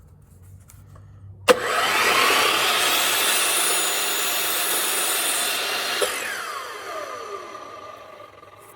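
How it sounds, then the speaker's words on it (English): A power saw rips an 8 3/4 inch cut through a wood board for a small squirrel picnic table, starting abruptly with a loud close whine and rasp that holds for several seconds, then spins down. "So let's go ahead and make this 8 3/4 inch cut."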